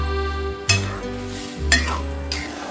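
Boiled lentils (dal) are mixed into a pot along with their water, a ladle scraping and clinking against the metal in a few distinct strokes over a low simmering hiss, close and without voices.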